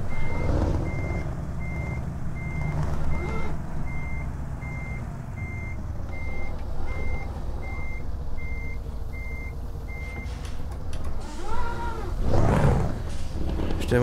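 A truck with sidepipes in Euro Truck Simulator 2 rumbles steadily and loudly at idle while a reversing beep repeats evenly over it; a voice briefly cuts in near the end.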